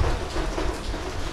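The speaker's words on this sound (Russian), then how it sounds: "Дождь еще немножко усилился." Heavy rain pours down in Phuket, Thailand, a dense, loud, steady hiss with a low rumble underneath, unbroken for just over a second.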